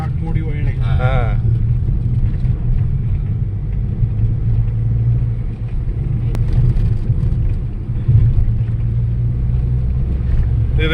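Steady car engine and road rumble from inside a vehicle on a winding ghat road, loud and continuous with slight swells, while a voice talks over it.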